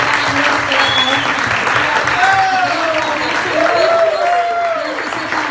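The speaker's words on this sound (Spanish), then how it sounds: "Si ese aplauso es para el Señor, dáselo más fuerte." Church congregation applauding during a Spanish-language sermon, a full, loud wave of clapping with shouts and sung or called-out voices rising over it, easing slightly at the end.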